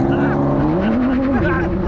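A loud, steady V6 car engine drone with a rising, buzzing exhaust tone through a titanium exhaust, with voices talking over it throughout.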